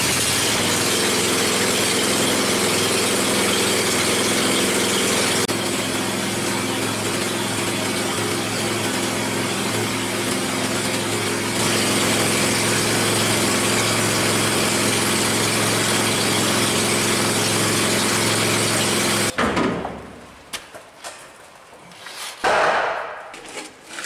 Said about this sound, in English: I'm gonna try to fire it up by myself and try to back this track off